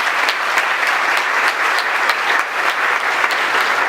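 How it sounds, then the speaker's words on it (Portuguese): Hall-filling applause at a theology faculty graduation ceremony, many hands clapping steadily and loudly with a few sharper individual claps standing out, no talk over it. "uma salva de palmas para vocês."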